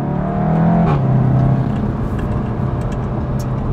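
A SEAT Leon Cupra 290 with 290 horsepower and a very stiff suspension drives along, its engine heard from inside as a loud, steady rumble that rises in pitch and then settles, with road noise underneath.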